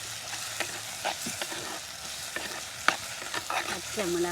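Green chillies sautéing in a pan for country chicken curry cooked outdoors in a garden, a steady sizzle broken by scraping stir strokes and ladle clinks at close range.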